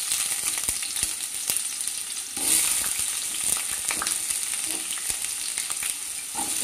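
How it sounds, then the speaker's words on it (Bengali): Diced potatoes fry in oil already used for frying koftas, giving a constant bright sizzle with scattered ticks and pops and one brief louder burst, with no one talking. "আমি ওই তেলেই আলু ভেজে নেব।"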